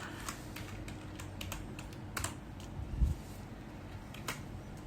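Computer keyboard keys clack in a quick, uneven run of close, crisp taps while a print-screen capture is taken, with a few louder strokes standing out and no voices.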